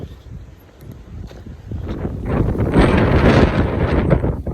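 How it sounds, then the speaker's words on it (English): Strong wind buffeting the microphone on the India Venster Trail, Table Mountain, Cape Town, starting as a low rumble and swelling into loud gusty roaring in the second half. "Windy day"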